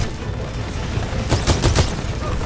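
Turret fire in a video game: a quick burst of several rapid shots cuts through a steady, loud wash of game noise, bunched together partway through. No voices are heard.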